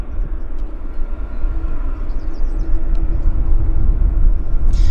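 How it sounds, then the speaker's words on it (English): A WestJet airliner approaching at Vancouver Airport, a broad steady rumble that swells gradually louder as it nears, with no talking. "this WestJet's getting a little bit close"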